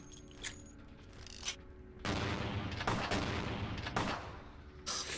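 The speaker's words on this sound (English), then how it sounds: "Shoot each other a bit." Gunfire in the Vampire the Masquerade Bloodlines video game, a few scattered shots followed by a sustained stretch of booming, rattling fire with sharp bursts, fairly quiet overall.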